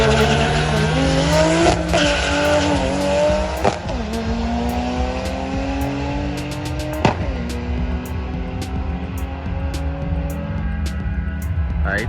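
A Toyota Supra four-door drag car makes a quarter-mile pass, its engine screaming loud and close through rapid upshifts with sharp pops and rising revs across the run.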